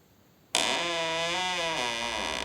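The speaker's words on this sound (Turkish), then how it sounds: "Bu ise gıcırdayan bir kapının sesi." A single long, groaning creak of a door swinging slowly, its pitch wavering as it drags on, loud and unaccompanied after a sudden start.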